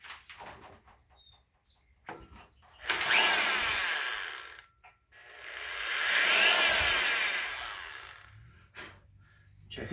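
An electric drill running on its lower speed, boring into a part from a GM 2.4 Twin Cam engine; two separate whirring bursts of several seconds each, close and moderately loud, with quiet pauses between.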